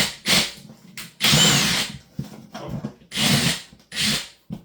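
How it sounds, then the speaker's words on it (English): Power drill driving a couple of screws into a wall while building a shower niche, several short whirring bursts with pauses between, close and loud. "So we're just going to put a couple screws in here."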